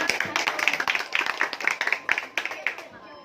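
Classroom applause: a group of students claps rapidly and unevenly for about three seconds, close and fairly loud, then fades out at the end while voices carry on underneath.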